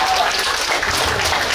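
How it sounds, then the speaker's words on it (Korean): A crowd claps at an outdoor folk performance during the Gangneung Danoje festival, making a continuous, hissing wash of applause that stays steady and fairly loud throughout. "박수 한번 쳐주시오."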